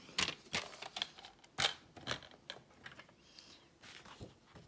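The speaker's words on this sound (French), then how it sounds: "on prend le massicot." Paper trimmer (massicot) slicing through card: a few sharp, close clicks and snips in an irregular rhythm, fairly faint against a quiet room.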